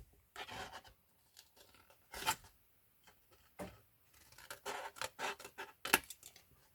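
Scissors snip through a piece of card or paper for a handmade Valentine's photo frame, a series of short, close, crisp cuts in irregular bursts with quiet pauses between.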